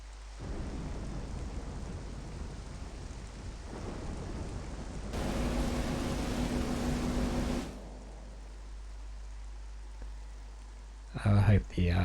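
Rain falling in the video game Metroid Prime Remastered: a steady, dense hiss throughout, swelling into a louder stormy burst with rumbling thunder midway, then easing back, with a couple of sharp sounds near the end.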